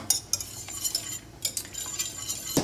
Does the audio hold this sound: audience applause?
no